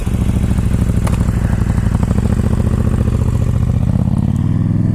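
A KTM Super Duke motorcycle engine pulls hard in second gear for a wheelie, a loud close rasping drone with a throbbing pulse that climbs in pitch and rises toward the end.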